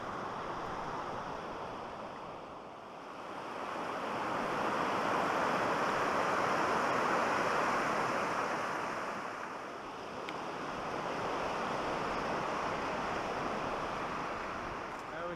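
Steady rushing of creek water flowing near a wilderness campsite at Entry Creek in Alberta, a broad continuous wash that swells and eases slightly, with no speech over it.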